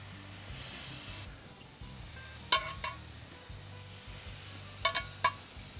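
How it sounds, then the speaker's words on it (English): Marinated chicken skewers sizzle on a grill with a soft, steady hiss, broken by a few quick clicks and taps of tongs or a spoon near the grill. "once again, there's that wonderful smell of grilling"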